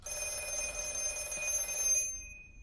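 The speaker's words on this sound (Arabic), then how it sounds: "تليفون أسود قديم متعلق على الحيطة، سلكه مقطوع وميت يرن" An old black wall-mounted telephone rings continuously with a bright metallic trill, then cuts off, leaving a faint tone fading out.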